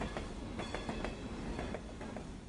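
A train rolling along its rails, with rhythmic clicking wheel beats over a steady low rumble, moderately faint and alone.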